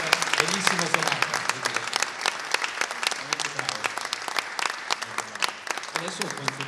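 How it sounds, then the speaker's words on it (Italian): An audience at a bel canto music event applauds a maestro, with crisp, uneven clapping from a modest crowd while someone speaks over it. "vorrei innanzitutto che facciate un altro applauso al maestro Andrea Bosso"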